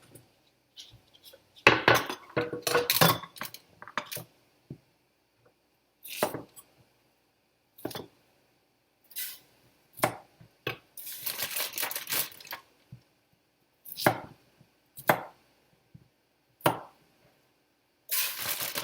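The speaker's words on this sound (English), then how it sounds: "I think I'm going to chop some of these florets because they're awfully big." Knife chops through vegetable florets on a cutting board in irregular bursts of sharp knocks and crunchy clatter, with quiet pauses between strokes and no talk.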